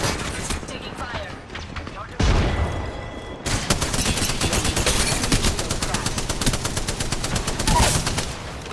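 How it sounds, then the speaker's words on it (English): Rapid video game gunfire rattles almost continuously in bursts of shots, loud and close, with a short heavy blast partway through and game voice lines over the shooting. "Getting shot at."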